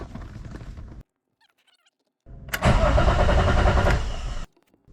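A BMW E36 engine cranks over loudly for a couple of seconds after a short quiet gap, following an earlier stretch of lower mechanical running, with no voices.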